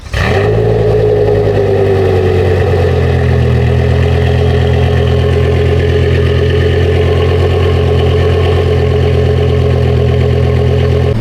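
A car engine with a newly installed double-pipe exhaust cranks and catches, then settles into a loud, steady, rumbling idle that holds close and unbroken for several seconds, with no talking.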